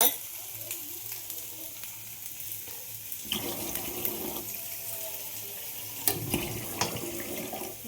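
Water poured into a pan of sizzling mustard-based dish spiced with salt, turmeric and red chilli, a steady frying hiss that surges louder partway through as the water hits, with scattered clinks of a spoon, no talking.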